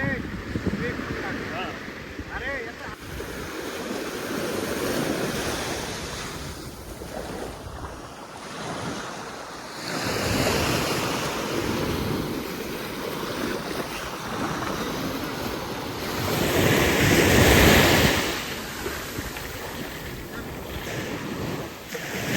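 Large ocean waves break and surge at Vayangan beach near Ratnagiri, a continuous loud wash of surf with wind buffeting the microphone, swelling strongest toward the end.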